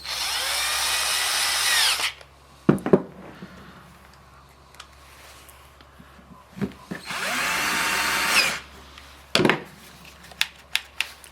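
A repaired impact wrench with a replaced control board runs in two loud bursts of motor whine. Sharp clicks and handling knocks fall between and after the bursts.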